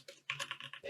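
Quick, clattering keystrokes on a computer keyboard, close and fairly quiet, a rapid irregular run of taps with a short pause near the start.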